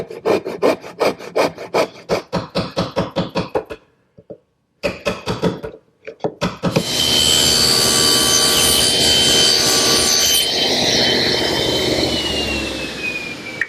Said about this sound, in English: make a couple saw cuts down to my layout lines